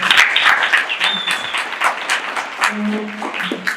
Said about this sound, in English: All right, a round of applause for